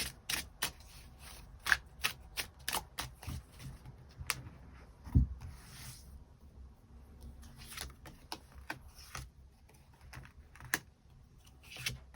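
Tarot cards are shuffled and drawn in a quiet room: a run of crisp, close clicks and taps in an uneven rhythm, with a soft riffling rustle in the middle and no talking.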